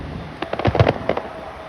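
Fourth of July fireworks bursting in a quick cluster of sharp crackling pops and booms, several close together, fading into a brief tail of crackle.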